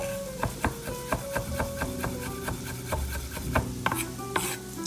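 A sharp knife runs across food on a cutting board while caramelized onions, mushrooms and seared ribeye are prepared, giving a steady series of crisp, close slicing knocks in a moderate rhythm over faint kitchen background.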